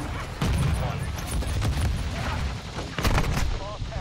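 Fennec submachine gun fire in the shooter game Modern Warfare 2: rapid, dense bursts of shots filling the short span, with a voice talking over the gunfire.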